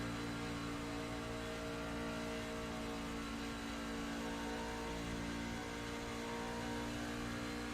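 Simulated racing truck engines in a sim racing video game run flat out, a steady, dense mid-pitched drone that holds level throughout.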